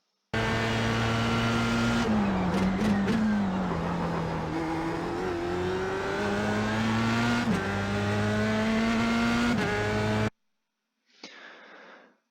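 Formula Sprint open-wheel race car lapping the Zolder circuit in iRacing, its engine screaming loud and close through upshifts and downshifts, pitch climbing and dropping around a chicane before cutting out, then a brief burst of noise.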